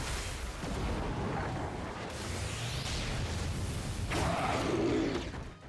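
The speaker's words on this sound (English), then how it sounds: "we were still able to use our soul bomb and take down the boss" A soul bomb special attack in the game Bleach: Brave Souls erupts as a rumbling, booming blast with whooshing sweeps and bursts, loud and continuous, swelling again near the end, with no talk.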